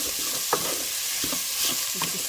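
Chopped onion sizzles in a pot coated with olive oil cooking spray, a constant close crackle with a few stirring knocks and scrapes.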